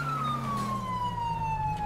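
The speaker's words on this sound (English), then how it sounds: "let's downgrade our siren here." A police car siren wails in a steady falling tone, moderately loud and alone with no talking, during a Department of Justice police pursuit.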